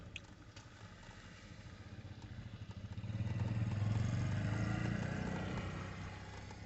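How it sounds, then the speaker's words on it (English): A small moped passes nearby on a street outside a mall with busy parking, its buzzing engine swelling to a peak around the middle and fading slowly, loud and steady above the street noise. "got a little moped. I don't know if you guys hear that."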